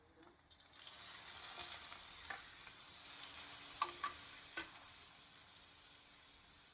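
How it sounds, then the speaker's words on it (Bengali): Vegetables hit hot oil in a wok and fry with a steady, close crackling sizzle, broken by a few sharp clinks and scrapes of stirring and no voices. "সবজিটা আমি 5 মিনিট দিয়ে ভাজা দিয়ে দেবো"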